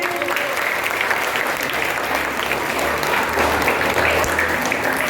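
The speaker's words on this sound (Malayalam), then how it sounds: "ഒന്ന് ക്ലാപ്പ് ചെയ്തേ നമ്മളെ." Loud, sustained group clapping from children at a government school yoga session, a continuous close wash of claps with a low hum underneath and no speech.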